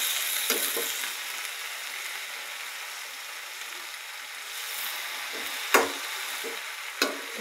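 Kochu greens fry in a pan with a steady broad sizzle, stirred by a utensil that scrapes and knocks against the pan a few times, close and fairly loud with no voices.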